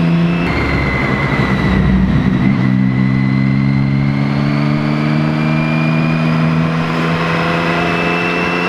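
A Triumph Street Triple R roadster motorcycle with its exhaust baffle still fitted runs loud and close, its engine tone climbing steadily as it revs, with no speech.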